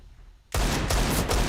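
Gunfire on the Cache map in a competitive Counter-Strike match: after a quiet lead-in, a sudden loud burst of shots erupts and continues as rapid, closely spaced cracks.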